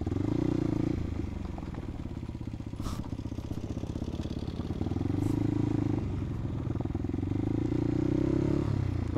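Motorcycle carrying a passenger rides a rough, partly off-road track near a remote beach, its engine a steady mid-pitched rumble with rattling and scraping over bumps, fairly close throughout.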